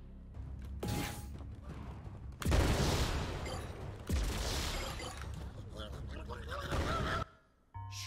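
Explosions and combat effects from the video game Dark Deception burst out as loud, sharp blasts, with two heavy hits a couple of seconds apart amid creaking, mechanical game sounds.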